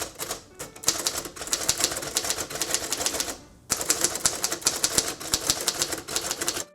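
Rapid clacking keystrokes on a manual typewriter, close and crisp, in uneven bursts with a short pause partway through.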